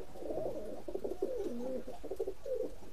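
Oman bloodline Teddy pigeons sitting on eggs in a loft coo continuously, with soft overlapping throaty calls rolling at close range over a faint background hum.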